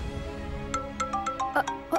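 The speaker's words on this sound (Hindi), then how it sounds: "फोन बज रहा है।" A phone ringtone chimes in a quick run of bright electronic tones, rising and repeating over a soft low hum, close and fairly clear.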